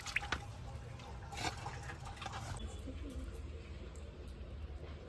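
Tilapia fish being washed by hand in water: splashing, dripping and sloshing bursts up close, busier at first and then settling into softer trickling.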